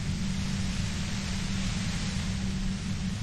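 Dense white-noise static from the video game Disco Elysium hisses evenly across the whole moment, a steady flat wash with a low hum beneath and no voices.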